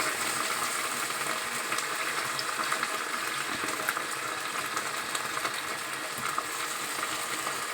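Washed drumstick leaves dropped into a hot cooking pan for a palya, giving a steady close sizzle and frying hiss with faint stirring, continuous throughout.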